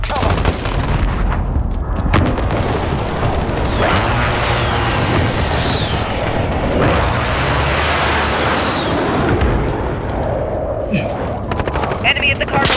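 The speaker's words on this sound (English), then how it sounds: "Enemy precision airstrike. Take cover." Explosions and heavy gunfire in a multiplayer shooter match as an enemy precision airstrike lands near a contested HQ objective, loud and continuous, with dense blasts and rattling fire and voice callouts over the din.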